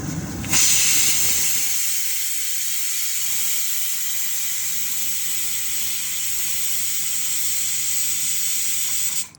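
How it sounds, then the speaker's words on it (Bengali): A pressure cooker whistles while khichuri cooks for Saraswati Puja, a loud, steady high-pitched hiss of steam that bursts in abruptly and holds almost unbroken for about nine seconds before cutting off. "খিচুড়িতে সিটি পড়ে গেছে"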